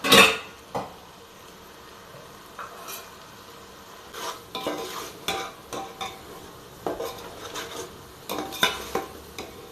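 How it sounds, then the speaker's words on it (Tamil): A spoon stirs and scrapes a mint-coriander paste sautéing in a pan for chicken biryani, with irregular metallic clinks and scrapes over a soft, low sizzle, close by and without talking. "இந்த பேஸ்ட் இது கூட போட்டுக்கலாம் வதக்கணும்"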